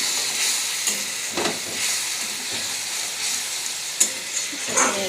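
Onion and tomato masala sizzles loudly in a pan as a little water goes in, a continuous bright hiss with scattered pops and stirring scrapes, no talking.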